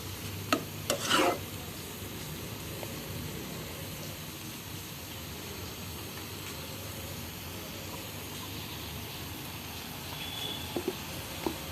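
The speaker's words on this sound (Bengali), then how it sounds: "ভর্তা যত ভাজবেন ততই মজা হবে।" Mashed vegetable bharta fries in plenty of oil, with a steady, soft sizzle throughout. A spoon scrapes and stirs it, giving a few sharp knocks near the start and again at the end.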